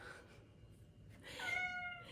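Chongker robotic toy cat meowing while being petted, soft rustling at first, then one clear drawn-out meow rising in loudness near the end, close and indoors.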